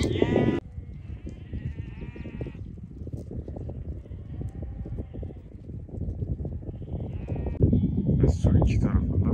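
A flock of sheep bleats repeatedly in a rugged highland pasture with cliffs and water nearby, the calls overlapping steadily at close range throughout.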